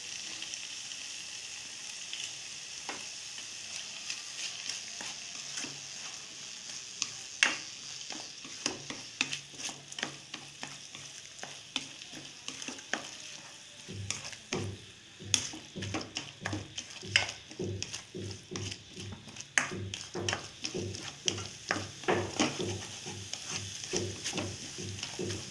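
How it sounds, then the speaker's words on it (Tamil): Radish and egg stir-fry sizzles in a pan for a Tamil home-style poriyal, with a spatula repeatedly scraping and stirring in an irregular rhythm over a steady frying hiss. "நல்லா அந்த முட்டை வெந்து இது கூட ஒட்டுற அளவுக்கு நம்ம வணக்கிடலாம்."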